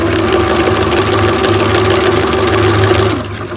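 An electric mixer whirs steadily at high speed through double chocolate muffin batter made with hot water, a loud continuous motor drone that holds for several seconds before dropping slightly at the end.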